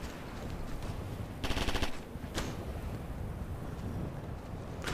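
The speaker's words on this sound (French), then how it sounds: "J'entends des coups de feu." Rapid automatic gunfire bursts out amid wind noise in the game Operation Flashpoint: Red River, with a short dense volley followed by a single sharp shot, all moderately faint.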